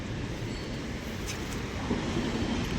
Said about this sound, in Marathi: बघा आले बघा ट्रेन